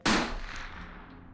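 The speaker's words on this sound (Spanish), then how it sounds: "varios testigos escucharon un disparo" A single gunshot sound effect: one sharp, loud blast that starts abruptly and then trails off in a long, fading echo.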